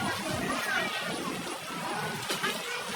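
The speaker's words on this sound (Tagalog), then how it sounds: "Parang araw-araw na lang umuulan." Steady rain falls in the rainy season, a dense, even hiss that holds for the whole stretch at moderate level with no clear voices.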